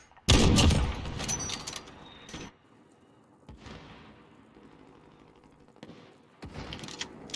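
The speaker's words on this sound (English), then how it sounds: "Taking fire!" Video game gunfire rattles out in loud close bursts, a heavy volley up front, then a sustained noisy stretch and sharp later shots, with no talking over it.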